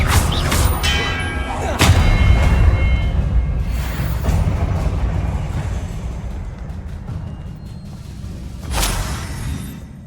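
Magic spell blasts from the Hogwarts Legacy video game boom and crackle in quick bursts, one heavy impact early and another near the end, over a dense rumbling game soundscape.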